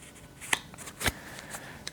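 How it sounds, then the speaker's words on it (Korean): Tarot cards are drawn from a deck, giving soft, close paper rustles and a few sharp card slides and flicks over a quiet background. "조언점 카드 하나 뽑도록 할게요"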